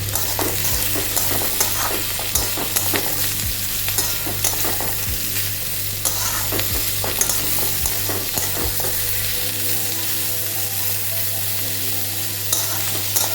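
Steady sizzling of spiny gourd (kakrol) curry vegetables frying in a pan, with regular scraping clicks of a spatula stirring every second or two, close and continuous.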